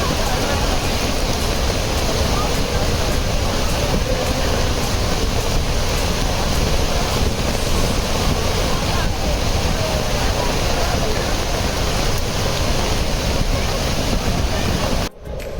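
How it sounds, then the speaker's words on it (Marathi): Powerful rushing water at Thoseghar waterfall, a loud, dense and unbroken roar that holds steady close by for the full length before cutting off abruptly at the end. "इथून तुम्हाला थोडक्यात दिसेल कसला जोर आहे पाण्याचा"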